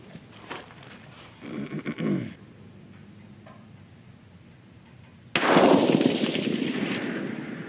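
A single rifle shot with 42.5 grains of Varget powder for a sighting round cracks sharply and loudly, then rolls away in a long fading boom outdoors, after earlier faint shuffling and handling noises.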